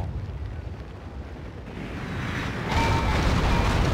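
Cannon fire in Total War: Shogun 2, a 12-pound round shot battle: a deep rumbling boom with broadband roar that swells louder about two-thirds through, no talking over it.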